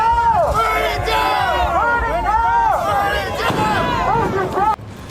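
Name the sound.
protest crowd chanting slogans during Los Angeles immigration protests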